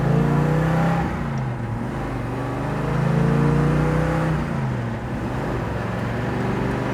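A 1967 Chevrolet Chevelle convertible accelerates on the road, its engine note rising through the revs, dropping at two gear changes and climbing again, loud and close, with no talking.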